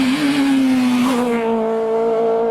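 Small four-cylinder Citroën C2 rally car revving hard, a loud buzzing engine note that climbs slightly, then drops as a gear change comes and settles into a steady pull.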